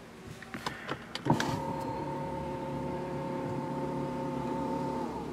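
Inside a Porsche Panamera Turbo S Hybrid, a few soft clicks give way to a steady electric motor whir as the panoramic sunroof's sunshade slides. The whir stays close and even to the end.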